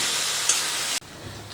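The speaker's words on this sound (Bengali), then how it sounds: "এই পেস্টটাকে দিয়ে এখন আমি মিনিট 2 মতো নাড়াচাড়া করে ভেজে নেব।" Spice paste sizzles steadily in hot oil in a pan while being stirred, a loud continuous hiss that drops abruptly near the end.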